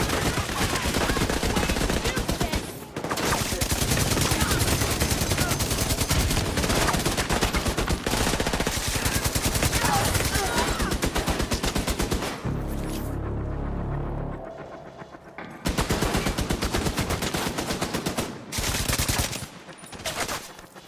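Hostile turrets in The Division video game fire loud, sustained bursts of rapid automatic gunfire, nearly continuous for most of the stretch with a couple of short pauses.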